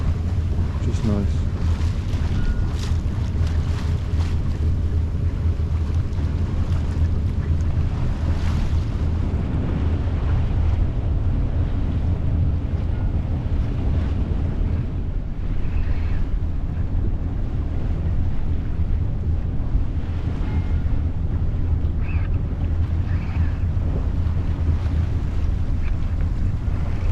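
A southwesterly breeze of about 10 to 12 knots blows across a gaff-rigged sailing boat at sea, giving a continuous loud rush of wind and water with no break.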